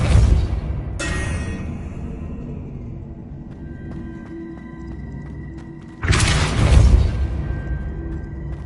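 A Depulso spell cast in the video game Hogwarts Legacy lands as two loud, sudden bursts several seconds apart, each a sharp blast that fades into a low, steady game ambience.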